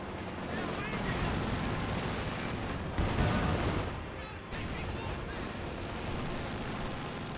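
Machine guns rattle in Company of Heroes 2, an MG34 alongside a tank's hull-mounted and coaxial guns, in steady bursts under near-constant commentary, with a louder crack of fire partway through.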